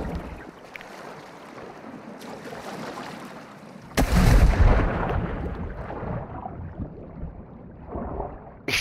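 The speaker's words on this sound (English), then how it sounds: "he's probably shooting at those guys now" Gunfire in Call of Duty: Modern Warfare II, a sudden loud burst of shots and blasts that fades into rumbling battle noise and distant shots, with no talking.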